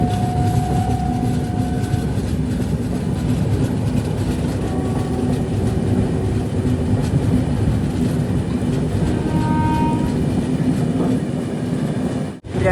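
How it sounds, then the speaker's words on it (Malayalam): Rapti Sagar Express, the Ernakulam to Barauni train, rolls into Chandrapur station with a steady, loud rumble of wheels and carriages, a low engine drone throughout and brief tonal squeals along the way. "ട്രെയിൻ ഇപ്പോൾ ചന്ദ്രപൂർ റെയിൽവേ സ്റ്റേഷനിലേക്ക് എത്തിയിരിക്കുകയാണ്."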